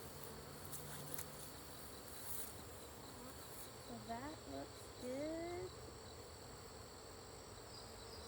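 A steady low hum of many bees buzzing fills the background, with someone speaking briefly over it.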